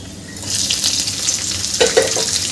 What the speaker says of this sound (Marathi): आणि छान परतून घ्यायचं आहे छान मिक्स करून घ्यायचं याला